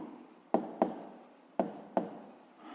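A pen writing out a math exercise by hand on paper, close and quiet, with four sharp tapping strokes and soft scratching between them.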